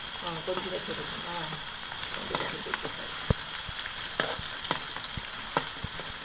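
Onions sizzle and fry steadily in a pan while being prepared for a fish curry, with a constant crackling hiss and a few sharp clicks and knocks of stirring; a voice is faintly heard early on.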